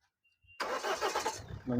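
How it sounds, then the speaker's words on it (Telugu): A 2019 Mahindra XUV500 W9 cranks and fires up on a single start, the engine catching quickly and settling into a steady, close idle while a voice speaks over it. "ఇంజిన్ కూడా ఒకసారి స్టార్ట్ చేద్దాం"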